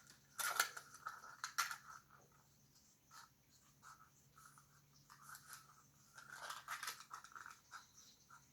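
Scissors cutting material for a handmade craft flower: a few crisp snips scattered across a quiet stretch, close by, with no voices.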